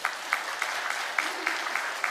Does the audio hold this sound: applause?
yes